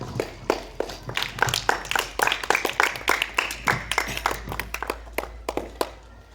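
An audience claps for a debate speaker at a school debate, the applause ragged and fairly close, swelling to a dense patter before thinning into scattered claps.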